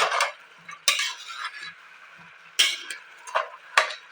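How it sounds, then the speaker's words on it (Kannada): Coriander leaves stirred into vegetable pulao in a pot, heard as a few sharp spoon scrapes and clinks spaced irregularly between quiet gaps, close by with no talking. "ಕೊತ್ತಂಬರಿ ಸೊಪ್ಪನ್ನು ಸೇರಿಸ್ಕೊಂಡು ನೋಡಿ ಈ ಥರ ಚೆನ್ನಾಗಿ ಮಿಕ್ಸ್ ಮಾಡ್ಕೊಳ್ತಾ ಇದ್ದೀನಿ."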